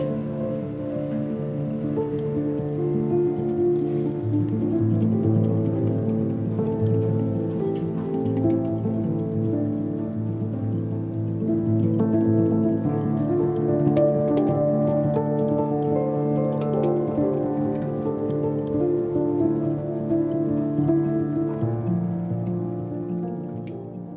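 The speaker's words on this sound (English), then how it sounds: "I've tried to film this about 100 times and it keeps raining." Steady rain falling outdoors during a sub-zero snow storm in the Cairngorms, Scotland, a continuous even patter on surfaces lasting the whole stretch, with no voices.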